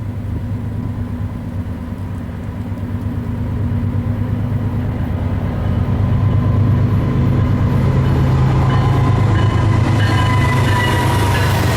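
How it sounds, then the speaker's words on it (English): Norfolk Southern 65E, a westbound tank train led by a Dash 9 locomotive, rumbles past close by with a steady low drone and rolling wheel noise that grows louder midway and holds, no talking. "Now this would be your typical tank train headed westbound for Chicago."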